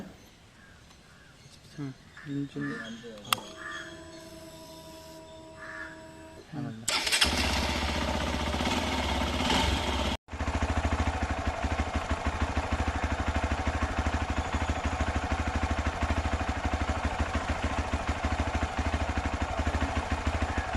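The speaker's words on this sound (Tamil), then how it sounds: "நான் இப்போ இந்த பைக்கை வந்து ஸ்டார்ட் பண்ணுறேன். இந்த பைக்கோட பீட் எப்படி இருக்குன்னு சொல்லி கேளுங்க." A Hero Xpulse 200 BS6 motorcycle starts with a brief crank after some talk, then idles loudly and steadily with a close, even engine beat, interrupted once by a momentary dip before continuing.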